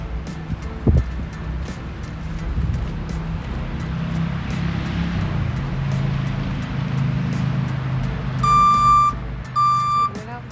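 A new tow truck's engine rumbles steadily nearby, then its backup alarm sounds near the end with a few loud, evenly spaced beeps.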